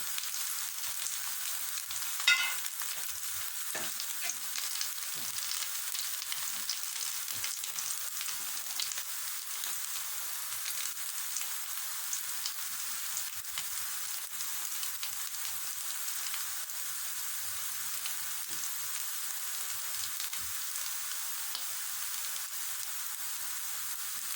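Food fries in a pan with a continuous faint crackling sizzle that lasts throughout, sometimes broken by soft stirring or contact noises, and no talking.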